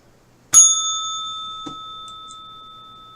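A single bright bell strike rings out sharply and sustains with a long, slowly fading metallic tone, with a faint small tap partway through the decay.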